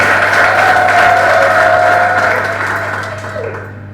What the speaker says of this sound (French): Et applaudissez pour vous-même.